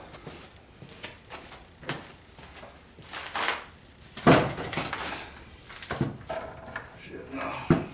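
Clattering metal pan knocks and scrapes in a garage while draining gear oil from a 1985 Chevy transfer case, several sharp clanks and rattles spread over the moment, close by and fairly loud, with a person talking intermittently.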